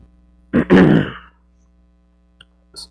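A single harsh cough or throat-clearing burst, close and fairly loud, followed by quiet with a couple of faint small clicks.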